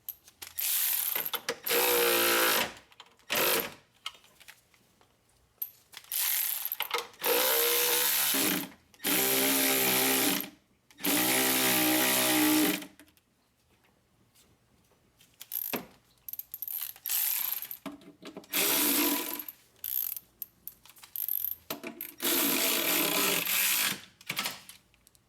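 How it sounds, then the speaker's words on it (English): A ratchet tightening the AC compressor belt tensioner bolt in an engine bay, clicking in several long bursts separated by pauses, close and clear, with no talk. "I have tightened the bolt for the AC compressor belt tensioner"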